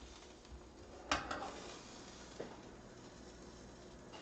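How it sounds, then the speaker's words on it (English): Steady crackling hiss of food sizzling in a pan, with a sharp utensil clank near the start and a softer knock later. "Hear it sizzling."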